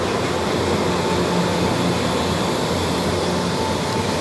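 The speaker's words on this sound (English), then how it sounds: "It's called a vacuum dryer." A steady, dense mechanical roar with a low hum and broadband hiss, unchanging throughout, from a leather vacuum dryer running close by in a leather factory.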